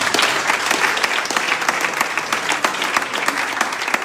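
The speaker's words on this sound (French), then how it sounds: "Acclamez Seigneur pour toi." A church congregation applauds in praise of the Lord, with dense, continuous clapping from many hands that stays loud and steady throughout.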